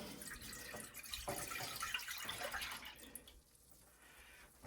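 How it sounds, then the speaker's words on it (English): Whole milk poured into a saucepan on the stove, a steady liquid splash and trickle running for several seconds, fairly close, easing off toward the end with no talking. "I'm going to put 2½ cups of whole milk"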